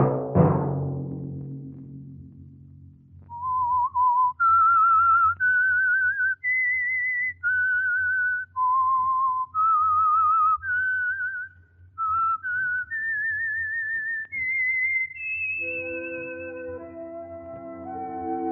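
Someone whistles a clear, lilting melody of short sustained notes, alone after a brief opening sound, with a low hum underneath.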